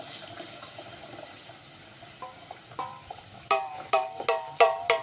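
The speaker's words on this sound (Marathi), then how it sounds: "हे चिंचेचं पाणी यामध्ये ॲड करायचं" Tamarind water is poured into a pot of sambar: a faint, soft liquid trickle, then a run of sharp, bright clinks as a metal utensil taps the vessel several times toward the end.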